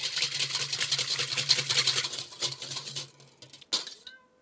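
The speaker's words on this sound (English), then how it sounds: "Okay, and now whipping the egg whites." Egg whites are whipped in a bowl with a rapid, steady rattling whir of beaters for a few seconds, fairly quiet and close, ending with a short clack and silence.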